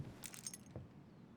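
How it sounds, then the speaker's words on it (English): House keys jangle in the video game Tell Me Why, a quick bright metallic rattle of a few shakes followed by a single faint clink, close and fairly quiet. "Are those the house keys though?"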